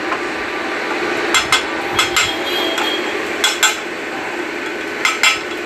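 A small metal rod taps a motorcycle front brake lock into its groove on a Royal Enfield, giving sharp, close metallic clicks in irregular pairs over a faint background hum.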